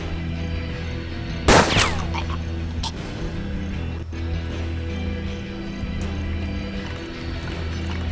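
A shotgun ricochet shot in the Western tactics game Hard West bursts out as one sharp, loud blast followed by a short ringing tail, set over a steady bed of game music and ambience.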